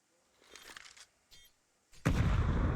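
AK rifle fire in a Counter-Strike match, heard as faint scattered shots early on, then a loud sustained burst of rapid gunfire near the end.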